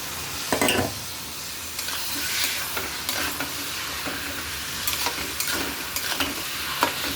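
Spices frying in a hot pan, a steady loud sizzle broken by repeated scrapes and clinks as a spoon stirs them, with no talking.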